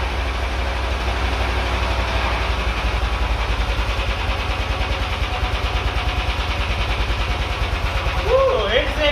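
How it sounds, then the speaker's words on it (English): A dune buggy engine idles close by as it is put into first gear, a loud, steady low-pitched throb with an even mechanical pulse, ending in a brief rising whine. "let's just test it out by putting this thing into gear"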